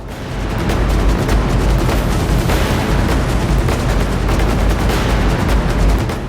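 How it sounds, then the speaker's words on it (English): Heavy naval gunfire from British warships engaging the Bismarck at the Battle of Denmark Strait in 1941, a loud sustained barrage of booming and crackling shots with no talk. "The British force continued engage and fire at all cost, but missed their mark."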